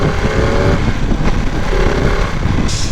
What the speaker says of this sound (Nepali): finally riding Ducati पानी गले V2